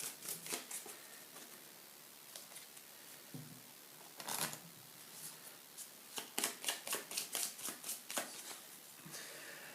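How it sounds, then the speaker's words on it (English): A deck of Apex board game cards is shuffled by hand on a tabletop, giving bursts of crisp riffling and slapping, a few scattered taps early, then a quick run of repeated riffles toward the end, close and fairly quiet. "I'm gonna shuffle the rest of these cards"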